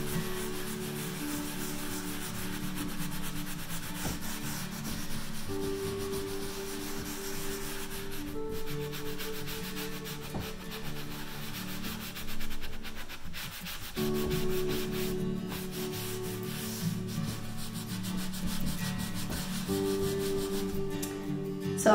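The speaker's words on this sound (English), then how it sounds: "I'm just going to gently work circular motions and push some of that black wax to the edges where these corners are" A cloth rubs black furniture wax into a chalk-painted table in circular motions, a close, steady scrubbing swish that keeps repeating, pausing briefly, then resuming with no voices.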